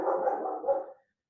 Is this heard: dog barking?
yes